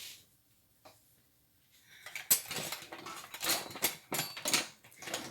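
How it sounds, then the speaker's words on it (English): A spatula scrapes around the sides of a mixing bowl of apple fritter bread batter, giving a run of quick, close scraping and clinking strokes that follows a quieter start, with no talking over it. "Scrape down the sides."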